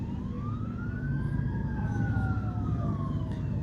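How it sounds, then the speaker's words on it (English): A wailing emergency siren rises and falls at a distance over a loud rumble of motorbikes and vehicle noise, heard on Freetown Road at the Holy Saturday Cross Country Classic motor race. "You can hear the songs of the motorbikes, the siren."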